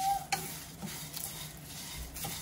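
Toor dal and rice dry roasting in a pan, stirred with soft scraping strokes and a faint, steady crackle, quiet and close.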